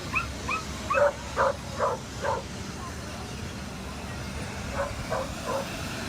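Several short barks from rescued dogs arriving in Ft. Pierce in a loose burst, then a few more after a pause, moderately close over steady background noise.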